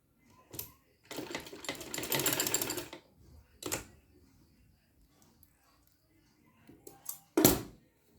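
A sewing machine stitches small fabric pieces for a dress, running in one longer whirring burst and several short close bursts separated by quiet pauses.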